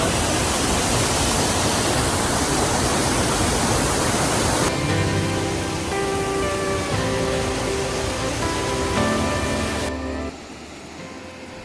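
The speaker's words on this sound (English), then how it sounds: "This is our first waterfall. Quite a small one. Bit loud." A small waterfall at Ingleton fills the air with a loud, close, continuous rushing roar of falling water, easing somewhat toward the end.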